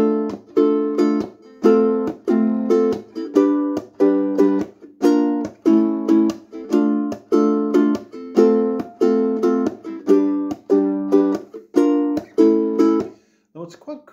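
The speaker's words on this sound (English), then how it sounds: "Nice rhythm section, especially for ukulele as well." A ukulele strums a steady, repeating rhythm with sharp chord strokes in a regular pattern for a song. The strumming carries on alone for several bars and ends just before the clip closes.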